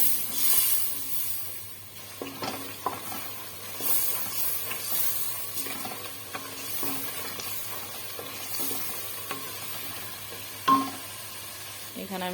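Garlic paste and onion frying in a pan, a steady close hiss and sizzle with intermittent scraping taps of a stirring spoon and a sharper clink near the end.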